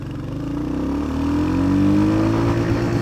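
A Royal Enfield Hunter 350 motorcycle accelerates, its single-cylinder engine thumping steadily as the pitch climbs smoothly over a few seconds, loud and close with no talking.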